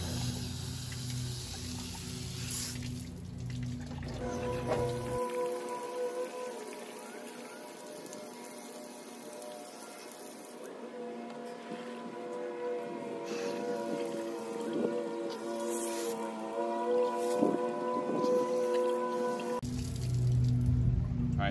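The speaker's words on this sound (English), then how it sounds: "now I'm just using the hose on and off, kind of burping it, giving it some pressure, letting it flow out" Water and coolant gush steadily from a garden hose pushed through the heater core of a 1997 Jeep TJ, a continuous splashing flow that surges as the hose is pulsed on and off, with a low hum and a faint voice at times.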